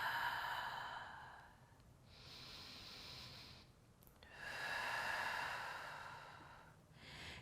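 Deep, active yoga breaths drawn down into the belly, heard as two long, close, breathy inhale-exhale cycles with hissing airflow. No talking.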